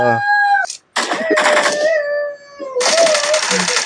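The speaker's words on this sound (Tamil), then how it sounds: "அது ஒன்றும் இல்லை காய்ஸ், நான் வளர்க்குற நாய் தான்." A hungry pet dog howls loudly and close by in drawn-out, wavering tones that rise and fall, broken by a few short gaps.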